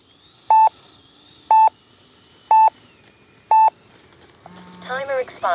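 Four evenly spaced electronic beeps sound about once per second as an RC flight timer expires at the field, followed by a short burst of synthetic voice-like tones.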